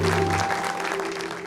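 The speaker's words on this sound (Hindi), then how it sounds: "मोइन बेग और मलका आपा की भी तालियां" Studio audience clapping for Moin Baig and Malka Apa on a New Year talk show, a short burst of crowd applause with a faint steady tone underneath.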